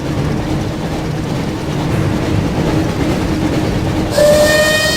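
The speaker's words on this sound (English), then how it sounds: "Looks like we found the train" Hogwarts Express steam train rolling past in the video game Harry Potter and the Chamber of Secrets, a continuous loud rumble and clatter that ends in a sharp, high whistle blast.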